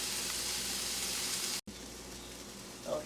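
Sausages and peppers sautéing in a pan give a steady, close hiss of broad sizzling that holds almost unbroken, with one brief dropout near the middle.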